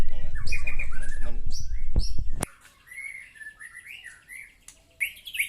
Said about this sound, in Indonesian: Pada kesempatan kali ini saya akan mengetes burung murai batu saya dengan bersama teman-teman.